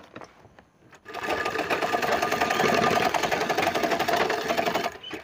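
A sewing machine stitches a bag made from a fertilizer sack, starting after a moment of quiet and running in a loud, steady, close-up whirring rattle for several seconds before stopping.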